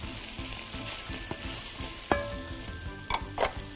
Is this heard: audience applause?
no